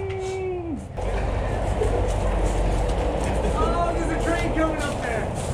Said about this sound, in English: There's a train coming up there!